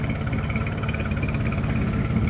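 A 1997/98 Mercury (Yamaha) 9.9 hp four-stroke outboard motor runs steadily after being shifted into reverse, a close, loud, even engine drone with no voices.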